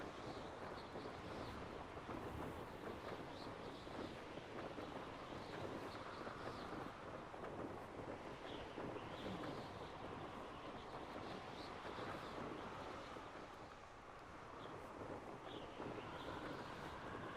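Steady rushing wind while flying through the air in the video game Hogwarts Legacy, a continuous broad whoosh that swells and dips slightly, with no talk over it.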